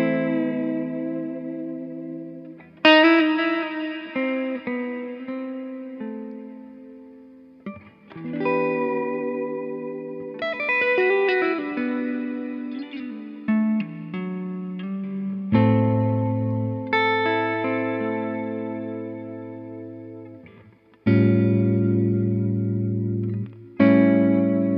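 Overdriven 1983 Fender JV Jazzmaster electric guitar through a Benson preamp pedal plays sustained chords and phrases, with reverb and delay from a Strymon Volante trailing each note into the gaps.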